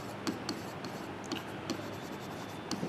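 Pen writing in Hindi-language accounting work, filling in a date on a petty cash book form: quiet, close scratchy strokes in short bursts, with no speech.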